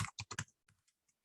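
Several quick keystrokes on a computer keyboard's numeric keypad followed by a press of Enter, close and crisp, then a few fainter taps in a quiet room.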